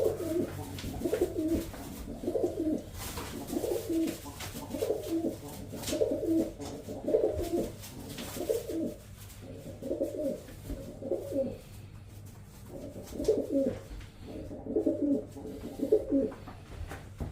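Racing pigeons, blue bar cocks, cooing in repeated soft, throaty phrases, steady and close, with brief pauses between bursts and a faint background hum.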